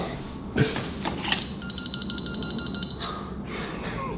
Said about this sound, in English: It's like it sets off an alarm.